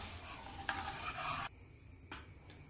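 A spoon scrapes and swirls through hot milk with sugar in a pan for a couple of short bursts, close and fairly quiet, with no voices.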